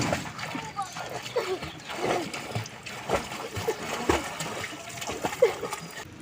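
A child swimming in a pond, with steady splashing and sloshing water from kicking and arm strokes, continuous and close, while an adult talks over it.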